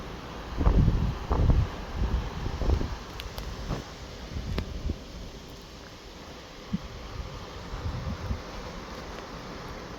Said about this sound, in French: Il y a vraiment du vent non-stop